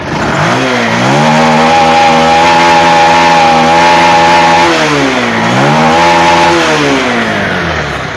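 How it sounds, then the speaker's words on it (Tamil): Engine of a Bajaj Pulser 150 BS4 motorcycle, with a fault that made it cut out at idle, revved hard and held high for several seconds, then dipping and rising again, loud and close with no talking. "இப்போ ரேஸ் பண்ணுற பாருங்க, இது பக்காவாக ரைஸ் ஆகும்."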